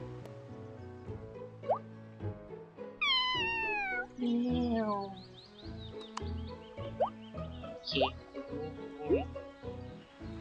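Several cats meow around food set out for them, with repeated rising cries up close over background talk and a few drip-like plops.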